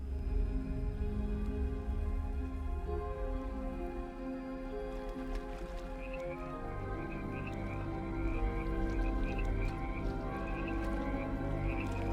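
Frogs croak in a dense, continuous chorus, with rhythmic calls layered over a steady low hum and washy background noise.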